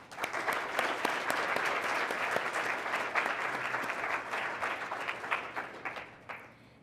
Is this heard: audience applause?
yes